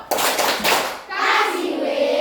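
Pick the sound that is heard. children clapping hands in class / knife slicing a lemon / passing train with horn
children clapping hands in class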